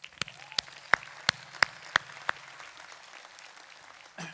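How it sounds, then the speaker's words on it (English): A sparse round of audience applause at an urban design awards event: about seven sharp, separate claps spaced evenly, then it fades into quiet room noise. "You guys do deserve a round of applause."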